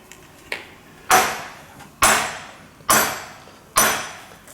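A hammer strikes a US-made ceramic bearing ball four times at a steady pace, each blow a loud, close, sharp ringing impact that decays quickly, with no talking.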